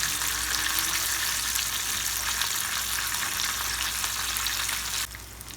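Breaded chicken fries in hot oil, a loud, dense, continuous crackling sizzle heard up close that drops off sharply near the end, with no talk.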